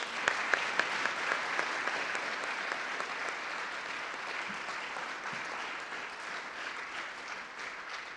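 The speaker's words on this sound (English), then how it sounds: "Congratulations to all the recipients. Please give them a round of applause." Steady audience applause for award recipients at an awards evening, dense clapping held at an even level throughout with a few sharper claps near the start.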